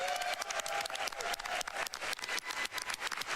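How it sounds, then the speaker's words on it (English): An audience applauds the TASBot team at a live event, dense sustained clapping that fills the room, steady and fairly loud with a crowd rumble beneath and no speech. "can we get one more big round of applause for everybody who was involved with TASBot this year?"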